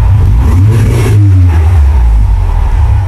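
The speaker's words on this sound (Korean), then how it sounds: "이 차량 배기음 듣고 가실게요" A Volkswagen Scirocco 2.0 TSI R revs its engine, the loud, close exhaust note rising and settling in a couple of swells before holding a steady idle, with no talking.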